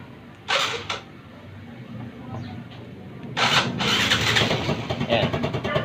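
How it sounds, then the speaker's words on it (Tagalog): A motorcycle engine cranked and started, short starter bursts followed by the engine catching into a rough, rising idle, close and moderately loud. "Start ko muna yung makina."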